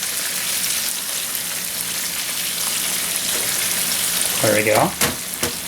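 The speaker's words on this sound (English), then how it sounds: "Now we're going to take our pan of hot oil. We're going to kind of move it around in circles" Hot oil sizzling in a pan as it is swirled in circles while cooking venison steak, a steady frying hiss throughout with a few brief scraping sounds near the end and a short spoken remark.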